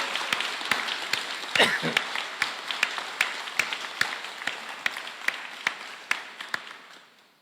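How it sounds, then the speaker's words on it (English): Audience applause at a U.S. delegation compact review agreement initialing ceremony: steady, fairly dense clapping from a crowd in a room, holding for several seconds with a few sharper individual claps standing out before it fades away at the end. "Let's give a round of applause."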